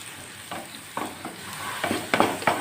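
Onions frying and being stirred in a pan, with a steady sizzle under several scraping stir strokes, close and fairly loud, no voices.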